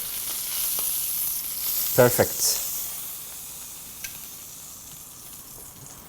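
Entrecôte steak sizzles steadily in a hot pan, a soft continuous frying hiss broken by a brief clatter of handling and one short spoken word.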